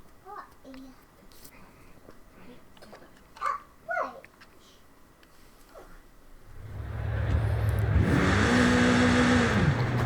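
A 2020 BMW M8 Competition coupe pulls away and accelerates hard, its engine swelling from quiet into a loud rising roar with gear-change sweeps, following brief talk.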